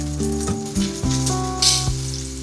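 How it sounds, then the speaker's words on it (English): Eggplants frying in pork oil give a steady, close sizzle with crackling pops, heard over a sustained tonal hum and with no talking. "Cooking the eggplants in pork oil adds that smoky, savory flavor that really ties the dish together. Fry them just until they soften"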